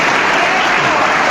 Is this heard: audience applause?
yes